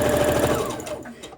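A home sewing machine stitches dress lining fabric with a rapid mechanical rattle up close, then slows and stops within a moment.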